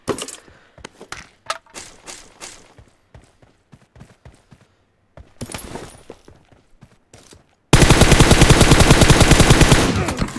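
Automatic gunfire from a PUBG battle royale match: scattered single shots and short bursts, then a long, loud, continuous spray of rapid fire that dominates the final seconds.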